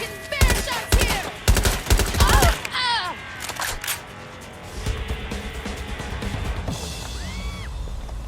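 Gunfire in Watch Dogs Legion, several sharp loud shots in quick succession at first, then quieter scattered game sounds and distant shots, with a voice talking over part of it.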